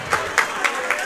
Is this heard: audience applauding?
yes